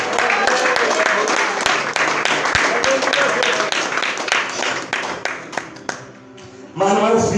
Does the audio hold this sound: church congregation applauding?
yes